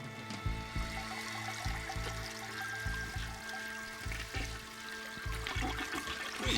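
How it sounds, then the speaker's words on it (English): A toilet flushing indoors, a continuous gush and swirl of rushing water that holds steady for several seconds, with a low rhythmic pulsing underneath. "You flushed my pills."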